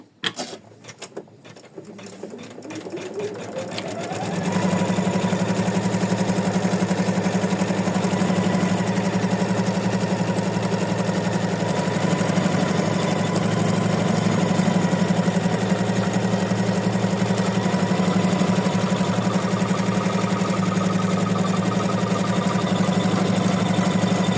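An embroidery machine stitches in-the-hoop white-on-white hearts, starting with a few irregular clicks and thumps before settling into a loud, steady, rapid mechanical hum and needle chatter that runs on alone.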